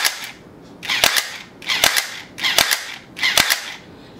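A JLS G18 airsoft pistol fires four semi-automatic shots with blowback, each a sharp crack with a slide rattle, evenly spaced about 0.8 seconds apart, close and loud with no talking.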